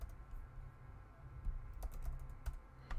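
Quiet keystrokes on a Mac keyboard while typing a font name, a handful of soft, irregular clicks over a low background hum.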